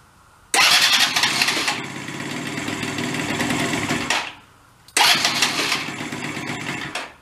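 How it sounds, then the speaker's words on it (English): A broken scooter engine cranks and fires with help from a jumper pack: a loud rattling, revving run of several seconds that cuts out, then restarts abruptly. "Let's go through the jumper pack on it. See if we can fire it up."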